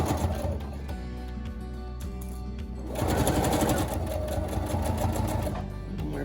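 A sewing machine stitches along the edge of a fabric tissue holder, its needle whirring steadily up close. The motor runs faster and louder midway through, with no speech over it.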